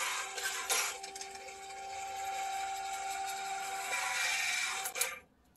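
Automatic chain sharpener running with its grinder wheel removed as the mechanism travels forward, giving a quiet, steady mechanical hum with a faint tonal whine that stops near the end.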